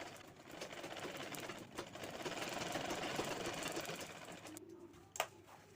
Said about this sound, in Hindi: बीच वाले लाइन पे हमें सिलाई लगाते जाना है